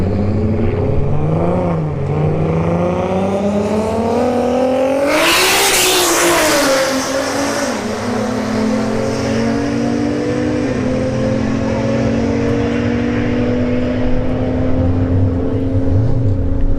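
Turbocharged Infiniti G37 and Q50 launch side by side in a street drag race at Bradenton Motorsports Park, engines roaring loud and close, revs climbing through gear changes with a sharp burst of noise midway.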